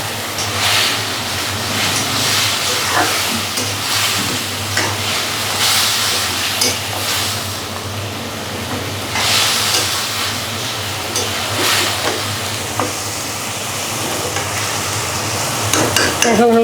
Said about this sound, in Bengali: এখন হলো মাংস ভাজা মাংসগুলো দিয়ে কষিয়ে নেব